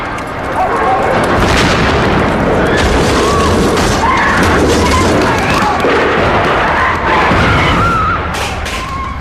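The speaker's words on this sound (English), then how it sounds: "Gunfire, explosions and screams echo across Prince's Gate" Explosions and gunfire ring out at the Iranian Embassy siege rescue in Prince's Gate, London, with heavy booms and sharp cracks layered over a loud, continuous rumble and chaotic noise.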